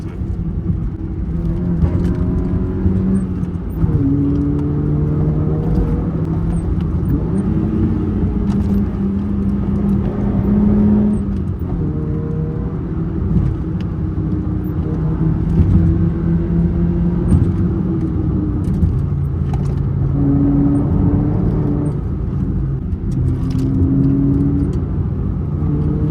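Modified Honda Jazz (Fit) hatchback engine heard from inside the cabin, humming steadily and rising through the revs with shifting tones, a continuous close drone under road noise with no talking.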